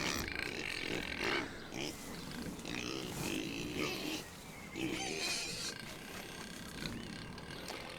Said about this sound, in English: Sorry about the noise of the pigs.